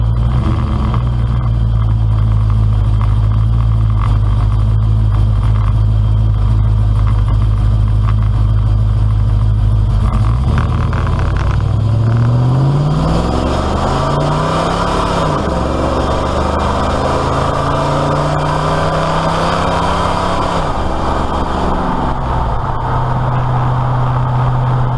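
A truck with a shortened, homemade two-piece drive shaft, its support bearing set too far forward, idles low and heavy, then revs and pulls away under hard load at low speed, a rising engine drone with rough shuddering through the drivetrain.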